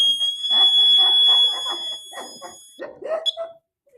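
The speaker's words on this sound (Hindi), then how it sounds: "ये ये बजर है।" Homemade fire alarm buzzer built from a battery and a light starter sounds a steady high electronic tone for nearly three seconds, with chatter over it and a brief chirp near the end.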